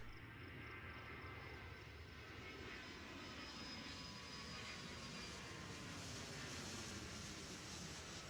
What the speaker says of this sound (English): Okay, we got another plane coming in.